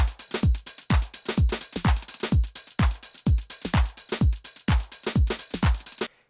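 House beat loop programmed in Ableton Live, with a punchy kick and crisp percussion repeating in a steady, evenly spaced four-on-the-floor pattern, loud and up front and continuing without talk until a sudden stop.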